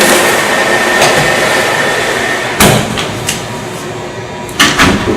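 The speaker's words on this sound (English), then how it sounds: "Let me close the door." A Cres Cor QuikTherm commercial oven door shuts with a solid clunk, followed by a few lighter knocks near the end, all over a steady background hum with no talking.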